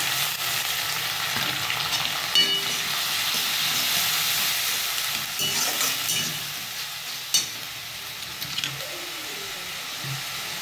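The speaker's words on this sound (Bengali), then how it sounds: "পেঁয়াজটা আমার লাল লাল করে ভাজা হয়ে গেছে" Onions sizzling and frying in a pan as the base for a katla fish kalia curry, a steady bright crackle and hiss with a few soft stirring knocks, close and fairly loud throughout.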